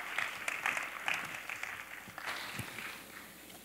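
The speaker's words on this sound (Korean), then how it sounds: "나오실 때 우리 뜨거운 마음으로 박수 한번 하겠습니다" A church congregation applauds as Pastor Choi Seung-hyuk, back from a two-week mission trip to Myanmar, comes forward, a moderate crowd-wide clapping that holds steady and then thins slightly.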